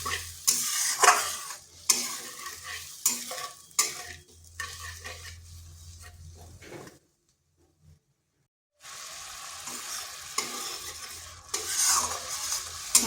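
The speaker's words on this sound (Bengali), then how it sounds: "ভালো করে একটু কষিয়ে নেব।" Masala spice paste frying and being stirred in a pan for a vegetarian soybean dish: a close, busy sizzle with scraping spoon strokes and clinks, a pause of near silence midway, then the sizzling and stirring resume.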